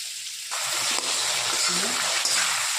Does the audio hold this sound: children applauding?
no